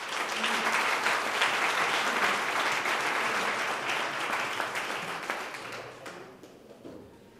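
An audience at a talk event in Salzburg applauds to welcome a speaker, a dense, sustained wash of clapping that holds steady for several seconds before thinning out and fading near the end.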